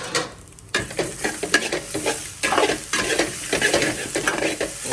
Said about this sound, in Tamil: லைட்டாக ஒரு கிண்டி விடுங்க.